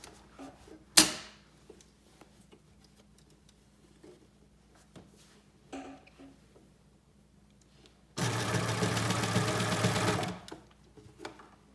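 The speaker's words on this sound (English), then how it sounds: "sew the other way through all the layers" A sewing machine stitching through all the layers of a sleeveless jacket's arm band, a brief close mechanical clatter and a loud run of rapid stitching lasting about two seconds, with small handling knocks around it.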